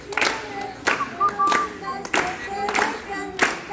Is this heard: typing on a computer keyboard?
no